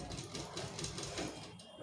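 A sewing machine runs steadily at low volume during a beginner tailoring lesson, stitching along beside a thread line next to the presser foot, with a continuous even whir and no speech.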